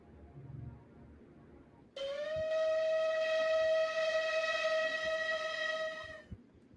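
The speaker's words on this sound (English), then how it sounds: "that particular whistle sound is one of the reasons why I want to redo this someday" A loud, steady whistle blast in a game, sharply pitched with rich harmonics, starting abruptly and holding for about four seconds before cutting off, after a quieter stretch of low background noise.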